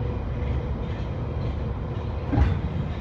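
Steady low rumble of a London Underground Bakerloo line 1972 stock train running, with a continuous rolling roar and a brief louder clunk near the end.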